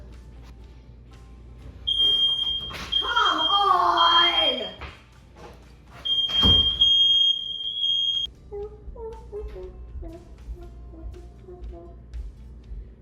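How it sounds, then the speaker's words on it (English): A smoke alarm goes off in a home kitchen during cooking, sounding loud sustained beeping tones in two bursts. Someone speaks and exclaims over the alarm. "I'm gonna try not to set the smoke alarm off"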